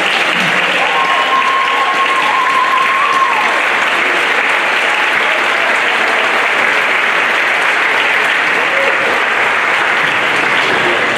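Audience applause at a university athletic awards night, a loud, even roar of many hands clapping that fills the whole stretch without letting up.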